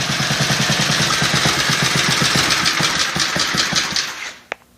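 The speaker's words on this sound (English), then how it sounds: "Something about an engine that's running" A freshly assembled mini motorbike engine runs with a fast, even chugging at close range, loud and steady for several seconds before it cuts out, a final clunk sounding as it stops.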